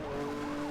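Police car siren in NFS Hot Pursuit, a wailing electronic tone sweeping up and down over a steady engine hum, close and clear for under a second.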